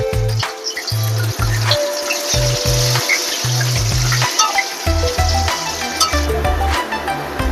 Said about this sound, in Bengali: এবার আলুগুলো ভাজবো।